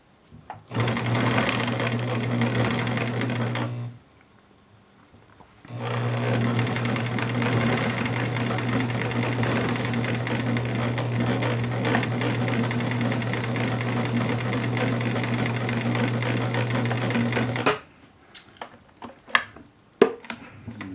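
Bernina Record 830 sewing machine stitching a zippered pouch at a shortened stitch length: two loud, steady runs of fast mechanical whirring, a brief pause between them, then a few clicks and taps after it stops.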